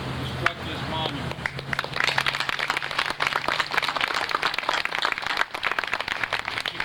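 Audience applause at a veterans memorial bridge monument opening ceremony in 2002, moderately loud scattered clapping that swells and continues steadily, with a voice briefly heard at the start.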